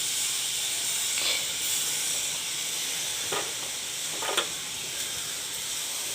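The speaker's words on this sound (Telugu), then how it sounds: "ఇప్పుడు సోయా సాస్ని యాడ్ చేస్తున్నాను" Soy sauce hits vegetables frying in a hot pan for a Frankie roll, producing a loud, steady sizzling hiss with a few sharper crackling bursts, and no voices.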